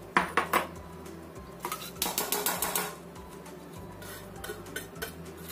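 Washed garlic being strained with water in a home kitchen, with quick clattering rattles and clinks in short bursts and a few softer knocks between them, close by and without speech.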